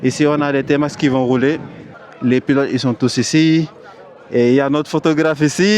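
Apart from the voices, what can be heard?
No everyday noise stands out behind the speech.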